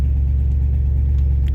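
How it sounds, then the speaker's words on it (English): A truck engine rumbles in a low, steady drone while driving along, the deep hum constant and even throughout with no voices. "Going for a truck ride."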